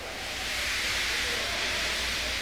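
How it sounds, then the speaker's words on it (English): A steam locomotive in the Trainz simulator game lets off steam in a steady, loud, broadband hiss that holds unbroken throughout, with no voices over it. "He just let off steam feebly."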